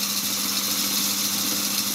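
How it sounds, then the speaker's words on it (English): A small homemade mini lathe motor runs steadily under load as its cone clutch slips, giving a continuous even hum with a faint whirring buzz and no voices. "the clutch is slipping."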